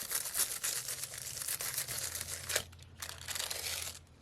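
Transfer foil being scrubbed onto custom tan mules, a close, steady crinkling and rubbing in repeated strokes, with a brief pause before the scrubbing resumes.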